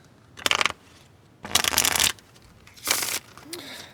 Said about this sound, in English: Let's give this a nice little shuffle.